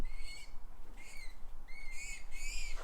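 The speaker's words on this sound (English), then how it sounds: "we've got some baby bloody bird up there" A baby bird calls from overhead beside a JCB Loadall 538-60 telehandler, giving four thin, high squealing cries at roughly even intervals over a constant low rumble.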